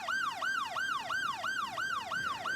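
An ambulance siren in the city-building game Cities Skylines 2 wails in quick, even rising-and-falling cycles, loud and steady throughout with no talking.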